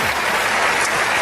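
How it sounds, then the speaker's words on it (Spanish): Church congregation applauding during a Spanish-language sermon, a dense, steady wash of many hands clapping that fills the whole stretch without a break. "Alguien tiene que aplaudir más que eso"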